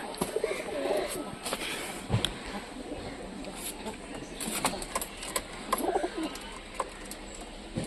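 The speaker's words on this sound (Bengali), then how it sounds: "এখানে একটা আছে গাছে কবুতর।" A pigeon coos from a tree in a pigeon setup, soft rounded calls in two brief bursts amid faint clicks and rustles, heard under a person talking nearby.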